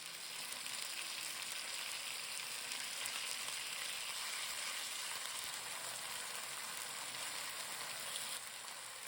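Beef pieces stir-frying with garlic and ginger in a pan for Mongolian beef, a soft, steady sizzle with faint stirring, quiet and uninterrupted throughout.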